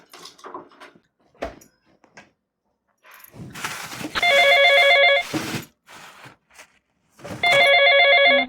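Telephone bell ringing indoors during a comedy skit at home: two loud bursts of rapid electronic trilling, separated by a few seconds of quiet with faint shuffling and household noise before them.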